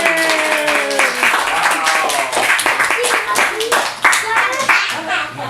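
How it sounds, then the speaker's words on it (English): Audience claps for a magician's young assistant at a kids' magic show, steady scattered clapping throughout with children's voices and harmonic chatter layered over it. "How about a big round of applause for my assistant?"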